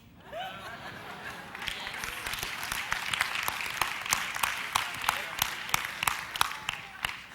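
Church congregation applauding during a sermon, a steady wash of scattered claps that swells and grows sharper toward the end, with some laughter and voices mixed in.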